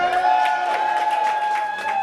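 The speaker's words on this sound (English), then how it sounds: "Clap for the fucked up mic." A comedy show crowd claps and cheers for a faulty stage microphone. A steady, high whine from the mic rings through the whole stretch, with the audience noise underneath.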